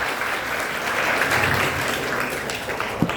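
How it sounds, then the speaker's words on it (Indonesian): An audience at a public speaking event claps in a steady, fairly loud burst of applause that continues for a few seconds. "Tepuk tangan sekali lagi."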